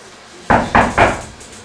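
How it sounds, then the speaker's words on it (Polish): Three firm knocks on a door at an even pace during a Nativity play, loud and close against a quiet room, with no talking. "Znowu ktoś puka."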